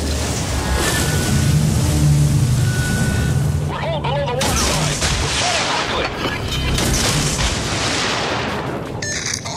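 Warship guns fire during a naval battle game at sea, with heavy booms and blasts over continuous surging water and engine roar, and voices talking throughout.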